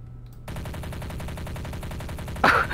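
Rapid automatic gunfire from the shooter game Trouble in Terrorist Town, a steady rattling burst of evenly spaced shots running for over two seconds, ending in a louder sharp crack.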